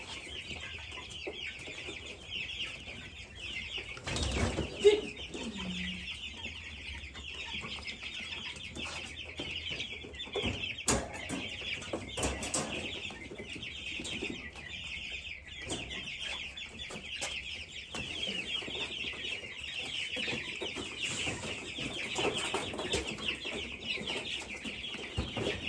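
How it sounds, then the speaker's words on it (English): Meat chickens cluck and squawk steadily against a constant high hiss, with a sharp burst of flapping or scuffling now and then. "The meat birds get feisty."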